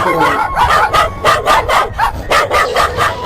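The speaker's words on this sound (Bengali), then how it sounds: "কুকুর" A dog barks in a quick, steady series of about ten yelps, loud and close, with no other sounds in between.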